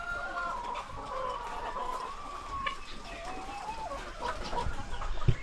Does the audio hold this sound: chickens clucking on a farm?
yes